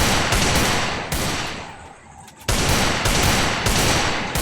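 Rapid bursts of gunfire from headshots in a shooter video game, loud and dense, with a short lull before the shooting resumes.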